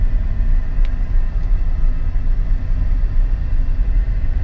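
A Chevrolet Silverado extended cab 5-speed pickup with an idle fault rolls along in third gear on its own with no throttle, giving a steady low engine and road rumble with no voices.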